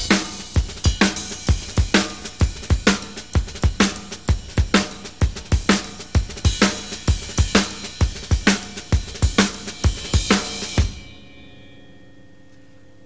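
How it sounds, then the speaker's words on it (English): Slow march-style snare beat with soft drag ghost strokes before the accents and a steady bass drum underneath, about eleven seconds of evenly paced strokes that stop and ring out briefly. "And now with the bass drum."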